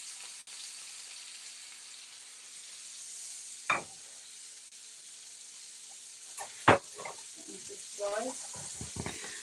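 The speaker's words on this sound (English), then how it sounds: "So we just got the butter going round and round like that" Butter in a hot pan browning to a nutty, caramel-coloured noisette, giving a steady close sizzle broken by a few sharp clinks and spatters as it is swirled.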